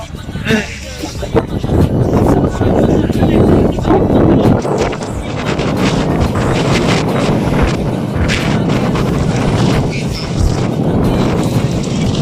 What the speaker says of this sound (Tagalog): medyo masama ang panahon guys, pero di naman umulan kasi mahangin